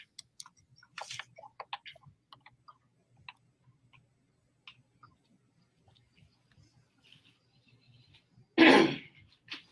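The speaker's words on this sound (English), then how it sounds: "let me clear my throat" A single loud, rough throat clearing bursts out near the end, preceded by scattered faint clicks and ticks in an otherwise quiet room.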